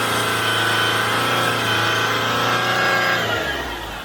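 A Land Rover Discovery 3 engine idles with hot oil, a loud, steady close mechanical drone with a constant low hum that drops off and softens near the end, with no talking.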